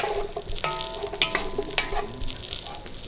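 Thick pieces of venison browning in a hot pan give a steady close sizzle and crackle, with a few sharper pops and scrapes of stirring over the continuous frying hiss.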